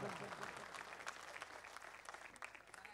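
Audience members seated in the upper tiers of a poetry recital hall clap together, a faint, distant patter of many hands lasting a few seconds with scattered sharper claps.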